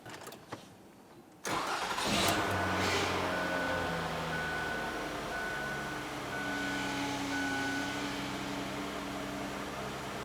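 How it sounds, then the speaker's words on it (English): A 2006-2012 Ford Fusion 3.0L V6 engine cranks and catches after a short quiet stretch, then settles into a steady, continuous idle with a faint high whine running through it. "start up the vehicle. We'll let it run for approximately 15 to 30 seconds"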